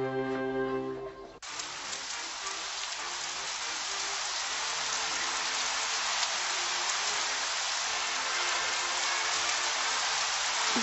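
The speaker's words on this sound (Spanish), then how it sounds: "Lleva dos días sin parar de llover." Steady rain falling after two days of downpour, a dense, even hiss of drops that starts abruptly and continues without pause.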